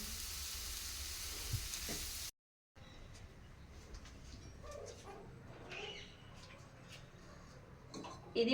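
Potato fry sizzling steadily in a pan, a continuous hiss broken by a brief silence, then frying resumes with faint stirring clicks and ticks.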